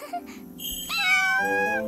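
A cat meows repeatedly while being bathed by children, its rising, drawn-out cries growing louder and more insistent near the microphone, with splashing and household background beneath.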